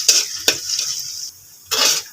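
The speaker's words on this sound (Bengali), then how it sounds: "এভাবে হালকা নাড়তে হবে, ভালো করে নাড়তে হবে যতক্ষণ পর্যন্ত আপনার পেঁয়াজ হালকা বাদামি রঙের না হবে" Onions stirred in a frying pan, a soft sizzle broken by a few scraping strokes of a utensil against the pan, with a brief quiet gap before the stirring resumes close by.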